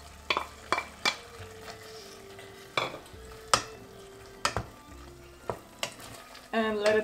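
Bell pepper goes into a tomato sauce for ratatouille, with sharp clacks of a spoon against the pot as it is stirred in, soft sizzling and bubbling between them, and a louder clatter of utensils at the end.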